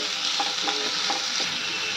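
Chopped onion, ginger and garlic fry in a pan with a steady bright sizzle, while a spatula stirs through them in several soft scraping strokes; no talking.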